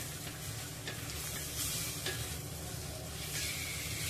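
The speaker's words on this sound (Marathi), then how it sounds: "सुरमई 1 मिनिटभर मसाल्यामध्ये परतून घ्यायची आहे।" King fish pieces sauté in masala on a low flame for a fish curry, a soft, steady sizzle with faint stirring scrapes, quiet and close with no talking.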